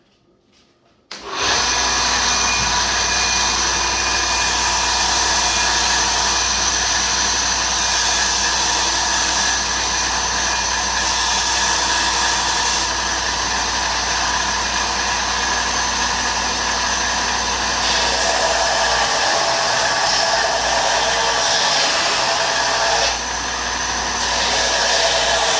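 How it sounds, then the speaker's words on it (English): A power sander grinds steadily down the antler handle of a kit knife, a loud continuous motor whine with a rasping abrasive edge that starts abruptly and holds nearly unbroken for the rest of the stretch. "we start getting the antler sanded down to where we can see the steel."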